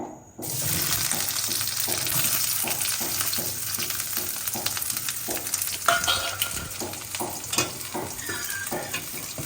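Sliced onion and bay leaves hit hot oil in a pan with a sudden burst of sizzling that then holds as a loud, steady crackle, broken by regular scraping and clinks of stirring.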